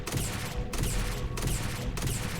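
A shotgun in a video game fires three times in a steady rhythm, each loud, close blast with a long broad roar filling the short stretch without speech.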